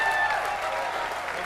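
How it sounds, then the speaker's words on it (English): An audience at a MusiCares benefit evening applauds the producer, a loud, dense wash of many clapping hands filling the hall, with a faint voice briefly over the start. "give a big round of applause to the producer this evening, Mr. Phil Ramone"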